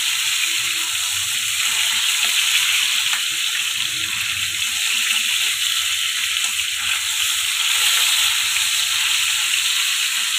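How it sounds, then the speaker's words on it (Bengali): Fresh village-pond tilapia deep frying in oil, a loud, continuous, dense sizzle heard up close and steady throughout, with faint low clatter beneath and no voices. "এগুলো একদম ডিপ ফ্রাই করেই খাওয়া হবে"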